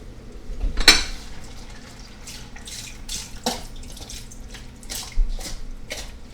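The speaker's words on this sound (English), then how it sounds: "And then pour the rest of it into the soup." Water poured from a container into a pot of soup for tuna casserole, with splashes, drips and clinks of the container against the pot, some louder spills near the start and later.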